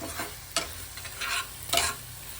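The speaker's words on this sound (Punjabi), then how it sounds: "ਇਹਨਾਂ ਨੂੰ ਆਪਾਂ ਹੁਣ ਚੰਗੀ ਤਰ੍ਹਾਂ ਮਿਕਸ ਕਰ ਲਾਂਗੇ" A spoon scrapes and stirs a pan of grapes and green chilies mixed with jaggery and a little sugar, making three distinct rough strokes over a low sizzle, close and moderately loud with no talking.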